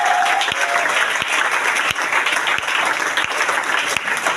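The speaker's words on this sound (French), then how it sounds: "Acclamons très fort pour la" A church congregation breaks into loud, sustained applause, dense and continuous throughout, with a few heavier thumps standing out in the clapping.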